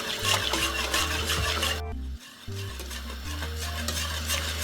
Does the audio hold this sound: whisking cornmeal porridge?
yes